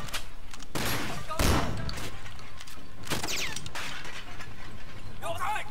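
Shotgun blasts ring out in the Sleeping Dogs video game, several loud sharp bursts spaced irregularly with mechanical clatter between them.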